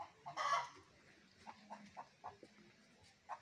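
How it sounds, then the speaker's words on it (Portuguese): Free-range chickens cluck at a poultry-rearing pen, with a louder, brief burst near the start followed by a steady series of short, moderately close clucks. "É galinha caipira, né?"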